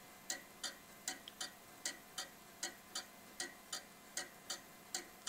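A pendulum clock ticking out of beat: close, sharp ticks that fall in a slightly uneven, limping rhythm instead of an even tick-tock, repeating steadily with nothing else heard.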